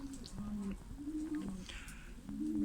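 Young Adana pigeon squabs coo in soft, repeated low rolling calls, a steady rhythm of several coos at close range, fairly quiet, with faint background noise.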